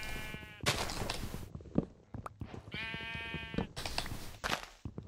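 Sheep in the video game Minecraft bleat repeatedly, several overlapping nasal calls in quick succession, close and clear with no talk over them.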